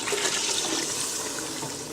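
A can of water poured into a pan of tomato sauce, a loud continuous gushing splash with a bright hissing rush, close and steady for about two seconds.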